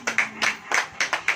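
A church congregation claps in quick bursts, sharp irregular hand claps coming in uneven groups of two or three, fairly close and loud with no talk over them.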